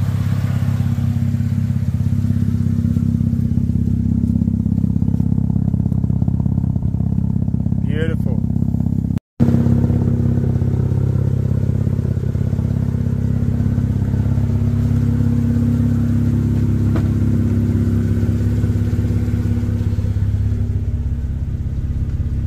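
Mazda RX8 rotary engine idling at 1,000 RPM, a loud, continuous low droning rumble that stays even throughout, with someone talking over it nearby.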